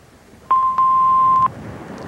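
A single steady electronic beep from a phone's answering machine sounds after the voicemail greeting, lasting about a second and clearly standing out over a low background hiss.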